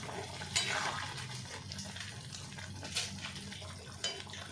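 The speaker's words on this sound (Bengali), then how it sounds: "জলটা দিলাম যাতে পুরো এঁচড় আর আলুর মধ্যে সব মশলাগুলো যাতে ভালো করে ঢুকে যায়" Water goes into a simmering jackfruit and potato curry, a quiet wet sloshing and bubbling with a few soft splashes and pot clinks.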